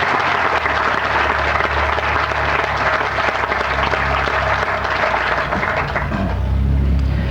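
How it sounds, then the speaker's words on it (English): An audience round of applause at a company's 100th anniversary recognition ceremony, heard as a loud, continuous roar of clapping that holds steady throughout, with a low rumble underneath. "I think she deserves a round of applause for Marge Westerkamp"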